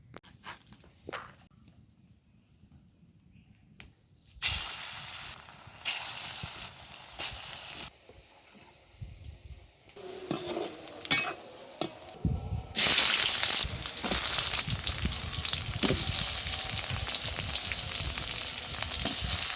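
Beguni, eggplant fritters, frying in hot oil in a home kitchen, with a loud continuous sizzle that comes and goes in bursts as pieces are stirred and added, plus occasional utensil clinks and soft footsteps.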